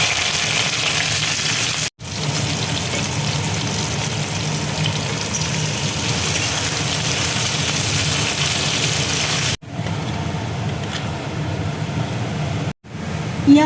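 Chopped onion frying in hot mustard oil in a wok with dried chillies and whole garam masala, a steady dense sizzle that runs almost without pause, broken by brief gaps as the pan is stirred.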